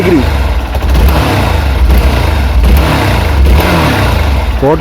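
A Hero XPulse 200 4V motorcycle engine fitted with a quick throttle, running close and loud with repeated short throttle blips over a steady idle.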